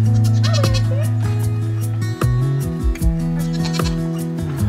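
A goat bleats among a flock of goats outdoors, its cries mixed with other animal calls in a steady, close, busy soundscape.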